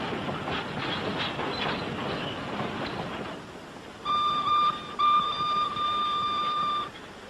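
A train rumbles and rattles along the tracks, then a sustained high squeal or horn-like tone sounds for a few seconds before fading.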